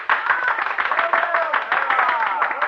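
An audience bursts into applause in a 1952 suspense radio drama, welcoming the detective Maître Vidocq onstage. Dense, steady clapping runs for nearly three seconds with a murmur of voices mixed in.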